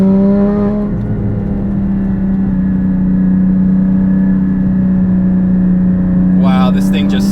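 A Porsche GT4 fitted with intake and exhaust upgrades accelerates hard up a freeway on-ramp, its engine note loud and steady in a close, continuous roar, with a voice briefly over it near the end.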